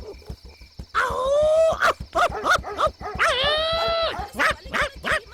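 Several dogs bark and howl together, drawn-out wails mixed with short repeated barks, loud and close.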